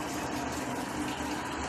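A washing machine starting up and filling with water, a steady rushing, gushing flow heard close and moderately loud, with no talk.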